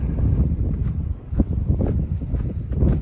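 Strong wind buffets a mountain trail on the Pacific Crest Trail, a dense, steady low roar of gusts pounding the microphone throughout with slight surges and dips and no speech.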